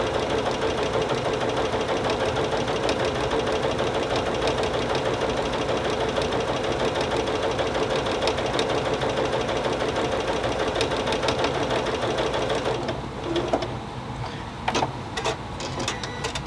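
A sewing machine runs steadily and loudly, stitching quarter-inch seams on half-square triangles for a star quilt, a continuous whirring drone that stops near the end, leaving a few faint handling clicks.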